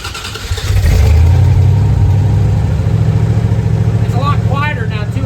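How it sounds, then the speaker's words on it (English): A tow van's engine runs with a new muffler fitted, a close low rumble that swells as it revs and then settles into a steady idle, with a voice speaking briefly over it near the end. "It's a lot quieter now too with that muffler."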